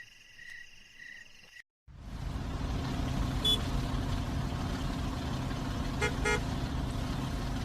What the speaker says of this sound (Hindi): सुबह जब आंख खुली तो देखा गेस्ट हाउस के बाहर बहुत लंबा सा ट्रैफिक जाम लगा हुआ था।